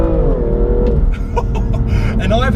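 A 2017 BMW M2 engine revs loudly and close during acceleration, its rising tone sweeping upward before settling, with a voice talking over it near the end.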